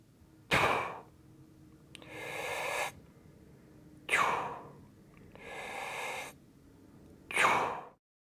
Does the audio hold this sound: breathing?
yes